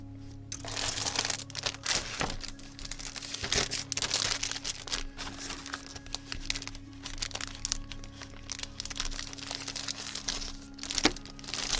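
A plastic bag holding sprues from a MENG 1/35 GAZ Tiger-M model kit is handled close up. It gives steady crinkling and rustling with occasional sharper crackles over a low constant hum.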